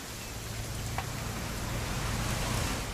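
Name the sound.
rain falling in the video game What Remains of Edith Finch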